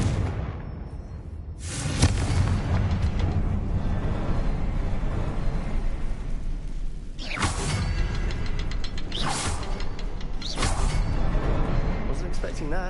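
A Confringo spell detonates in Hogwarts Legacy with sudden bursts of blast and crackle, several sharp hits landing amid mechanical creaks and clanks of game noise, with a voice speaking between them.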